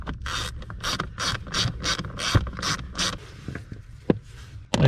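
Bolts on a Jeep JK blower fan are tightened with a ratchet, giving quick bursts of close, crisp ratcheting clicks in a regular rhythm, separated by short pauses and a few light knocks.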